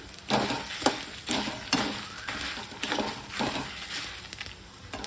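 Dried red chillies fry in a pan, a steady sizzle broken by regular scraping stirs of a spoon, close and clear with no voices.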